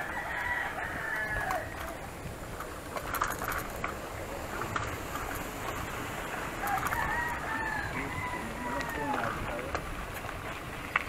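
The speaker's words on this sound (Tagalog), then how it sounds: "manok pala humabol eh" Chickens cluck and call over steady outdoor noise, with people talking nearby throughout.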